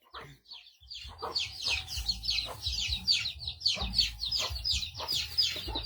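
A hen clucking near her chicks outdoors: close, continuous chattering clucks and high peeping calls, with a low rumble of background noise underneath.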